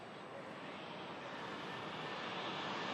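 A Boeing 737 jet bound for Stockholm comes in to land, its engines a steady, distant broadband roar that swells slightly throughout, with no voices over it.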